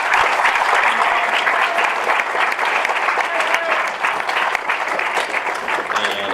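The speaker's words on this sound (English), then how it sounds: "So big round of applause for all our parents out there." Loud, sustained audience applause at a high school fall sports awards night, a dense steady wash of clapping filling the room for several seconds with faint voices mixed in.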